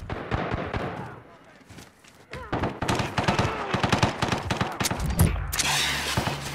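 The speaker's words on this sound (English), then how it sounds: "I'm taking fire." Sustained gunfire in a multiplayer shooter siege: rapid automatic bursts and single shots rattle close and loud, building into dense overlapping fire, with a player talking over it.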